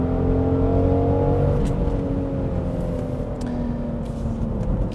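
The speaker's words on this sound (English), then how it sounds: "when you push it, the rear actually pops out and it holds gear all the way" A 2022 Genesis GV70 SUV in sport mode accelerates hard and holds its gear, its engine note loud, steady and close throughout, with a slight shift in pitch midway and no talking.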